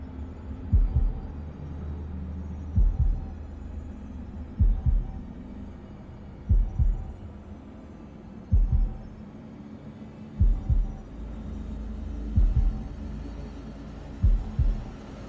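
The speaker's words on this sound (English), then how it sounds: "Fuck, I'm about to have to do a heartbeat." A slow, steady heartbeat in the horror game The Dark Pictures: House of Ashes, with low double thumps repeating roughly every two seconds over a soft droning hum.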